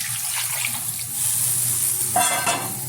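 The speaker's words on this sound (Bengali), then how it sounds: "দিয়ে দিচ্ছি পরিমাণ মতো জল।" Water pours steadily into a cooking pot of poppy-seed tangra fish curry, a continuous splashing stream close by that swells slightly toward the end.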